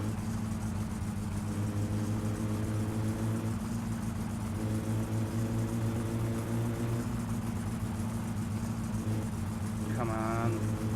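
A car engine in the video game My Summer Car drones steadily and loudly at idle, with a few slight pitch shifts and a brief higher chirp near the end.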